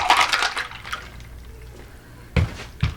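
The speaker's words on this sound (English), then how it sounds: "And now you just pour directly." A Bloody Mary pours briefly into a glass, giving a short liquid splash and then two quick drips or clinks, close and moderately quiet.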